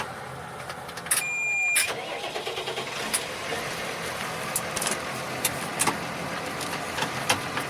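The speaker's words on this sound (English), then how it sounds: "It's hard to drive this tractor with one hand." A tractor engine cranks over and fires up during work around a garage frame, then settles into a steady running rumble with intermittent clanks and knocks, close and fairly loud throughout.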